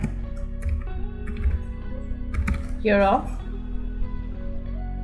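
A computer keyboard is tapped in a few scattered keystrokes as a word is entered in a design editor, with a voice speaking briefly over the clicks and a low steady hum underneath.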